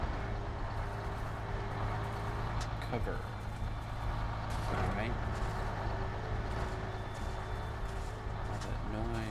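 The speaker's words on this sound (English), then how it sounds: "Get that truck moving." Truck engine rumbling and starting to roll in the Spider-Man video game, a steady low drone under a brief hiss like an air brake, with game voices talking over it.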